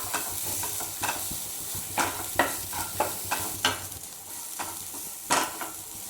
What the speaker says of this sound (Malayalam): വെളുത്തുള്ളിയുടെയും ഇഞ്ചിയുടെയൊക്കെ ആ പച്ച മണമുണ്ടല്ലോ, അത് പോകുന്നത് വരെ ഇളക്കി കൊടുക്കാം